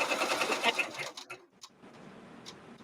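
An embroidery machine stitching an in-the-hoop project runs with a rapid mechanical patter that stops partway, followed by a few faint clicks and taps in a quiet room.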